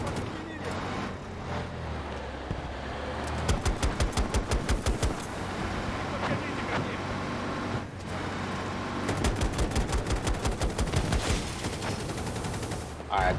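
Video game gunfire sounds as rapid automatic bursts, two long fast strings of shots over a constant engine-like rumble, loud and close, with a voice talking at times.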